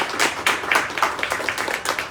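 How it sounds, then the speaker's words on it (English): Listeners at a Chicago literary reading event applaud the readers, a brief burst of close clapping with audible individual claps pulsing in a loose rhythm. "Another round of applause for our readers."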